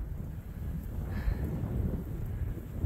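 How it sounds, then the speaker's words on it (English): Wind blows steadily across a snowy mountain trail, a low rushing buffet that stays fairly constant with slight gusts and has no other clear sounds over it. "Wind's blowing."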